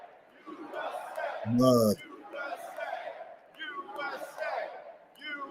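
Crowd at a political rally chanting in rhythmic bursts, distant and moderately loud, with a single spoken word cutting in close over the chant partway through.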